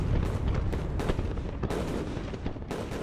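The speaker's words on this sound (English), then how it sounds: "The attack on the north side of the fort began with an artillery barrage launched from frigates and land positions along the foothills of the northern shore." An artillery barrage rumbles continuously, dense overlapping booms and blasts forming a loud, sustained roar of distant cannon fire.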